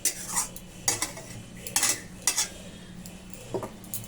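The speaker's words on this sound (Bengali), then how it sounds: "একটু নেড়ে দেবো অনেকটা মজি এসছে ছড়িয়ে দিলে ভালো হবে" Kochur loti (taro stolon) curry stirred in a pan: a spoon or spatula scrapes and clinks against the metal in several quick, close strokes over a light sizzle.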